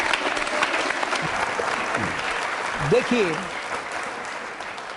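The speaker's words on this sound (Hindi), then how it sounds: "नंदिनी के लिए तालियां जोरों से बजाइए, जोरदार तरीके से तालियां नंदिनी के लिए" A school audience at a Navratri quiz show claps steadily for contestant Nandini Gupta, a continuous wash of applause with a voice speaking over it.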